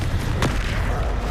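A Confringo fire spell blasts once in Hogwarts Legacy, a single short burst over constant low rumbling game noise.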